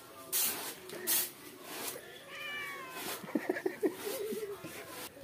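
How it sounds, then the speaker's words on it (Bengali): A cat meowing at a village market fish stall while a silver carp is being cut, several short plaintive meows in the second half amid background voices and market noise. "বিলাইটা খাবো বলে ডিস্টার্ব করছে,"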